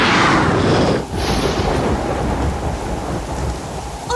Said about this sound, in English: Oh la la, a storm!